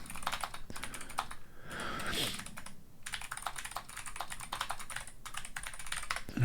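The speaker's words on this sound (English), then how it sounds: "I can't see you typing that" Close, steady typing on a computer keyboard, with rapid clicky keystrokes running through the whole stretch and a couple of brief pauses, plus faint background voices at low level.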